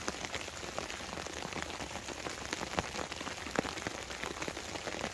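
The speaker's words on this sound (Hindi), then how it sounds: "ये देखो स्नोफॉल अभी भी, मतलब ओले गिर रहे हैं, स्नोफॉल हो रही है" Hail and snow fall outdoors on a mountain camping spot, making a dense, steady patter of small hard pellets hitting surfaces, with crisp ticks scattered throughout and no pauses.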